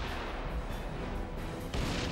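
An M777 howitzer fires in the field, a heavy booming blast with a long rumbling tail, followed by a second sharp report near the end.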